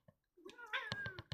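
A house cat gives a short, drawn-out meow close by, followed by a few quick, soft chirping sounds, all at low volume.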